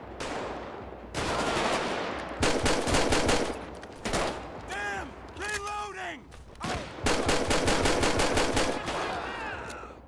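Rapid bursts of Grand Theft Auto V gunfire with the LSPDFR police mod crackle back and forth in a shootout, with short gaps between volleys and some brief electronic chirps.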